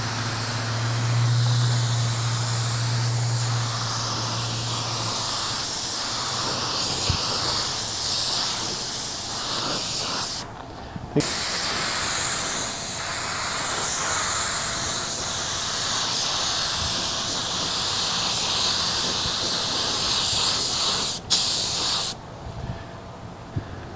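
A spray gun lays clear coat onto car headlights with a steady, loud hiss that runs almost continuously, broken by a few short pauses as the trigger is released, with no talking.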